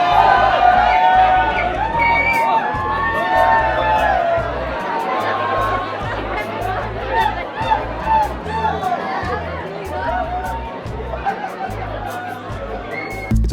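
A huge, dense New Year's Eve crowd packs Toronto Union Station, with a continuous roar of chatter, cheering and scattered whoops and laughter that stays loud and close throughout.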